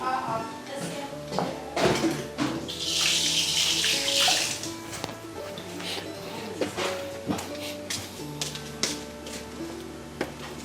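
Water runs for a bath, a steady splashing gush from a tap, close and continuous, with voices talking over it.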